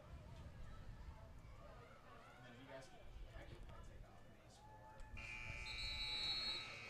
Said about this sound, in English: the buzzer sounds at the end of the first quarter